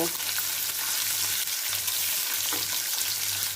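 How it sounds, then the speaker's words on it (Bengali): Small puti fish, rubbed with salt and turmeric, fry in hot oil in a pan, giving a continuous close, loud sizzle with a few brief dips and crackles. "মাছগুলোকে আমি ভালো করে সাজিয়ে দিয়ে ভেজে নেব"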